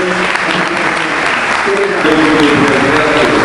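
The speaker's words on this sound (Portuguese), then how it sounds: "dar uma salva de palmas para vocês" Loud audience applause at a school project award ceremony in Portuguese, a continuous dense clapping that swells slightly toward the end, with voices audible underneath.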